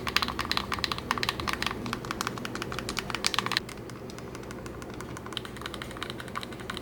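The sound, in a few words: clunky buttons of older Anbernic handheld being pressed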